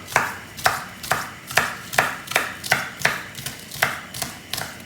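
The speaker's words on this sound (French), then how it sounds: "Donc l'oignon nouveau, l'intérêt c'est d'avoir de la texture. Donc on va faire des tronçons comme ça" A knife chops spring onion into short lengths on a board for an asparagus salad, about ten crisp evenly spaced strikes at a steady rhythm, close and clear, with no talking.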